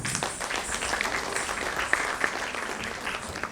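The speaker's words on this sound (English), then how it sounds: "Let's welcome students of HSR branch, trained by Ranjini Shri, on the stage with a big round of applause" Audience applause greeting young Bharatnatyam dancers as they take the stage, a steady burst of many hands clapping in a hall, fairly loud and sustained.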